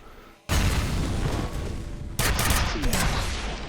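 Grenade blast and gunfire in the first-person shooter F.E.A.R. Extraction Point: a sudden loud, dense burst of shooting and explosive noise that continues, with a second heavy hit partway through.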